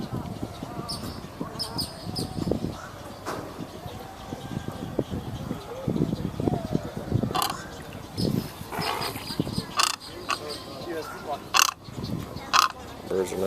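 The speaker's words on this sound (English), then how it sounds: "Birds are making noises." Birds call near crocodiles at Gatorland, with scattered squawks and cries standing out over a steady outdoor crowd murmur and nearby chatter.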